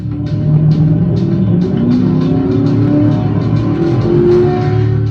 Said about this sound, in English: The sports car kept going in a bid to elude the police, but the police officer followed closely